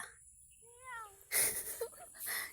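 Someone imitates a cat with a rising, wavering meow, then noisy overlapping voices and clatter break in, like children responding in a busy room.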